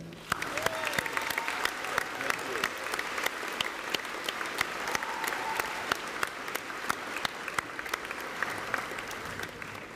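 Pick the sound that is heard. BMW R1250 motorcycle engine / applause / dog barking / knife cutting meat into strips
applause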